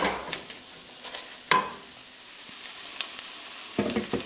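Collard greens cooking in a pot, Caribbean style, stirred once with a sharp utensil knock against the pot amid a soft, steady simmering sizzle, with a few light scrapes toward the end.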